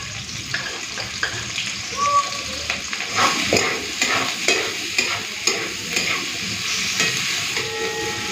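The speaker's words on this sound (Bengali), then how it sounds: "পেঁয়াজটা রসুনটাকে হালকা ভেজে দিয়েছি" Chopped onion and garlic frying in a little hot oil, a steady sizzle with repeated scraping stir strokes of a spatula against the pan, close and fairly loud, no talking.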